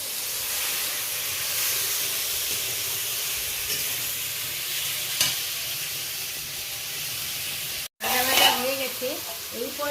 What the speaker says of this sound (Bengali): মশলার সাথে একইভাবে আমি নাড়াচাড়া করে বেশ ভালো করে ভেজে নেব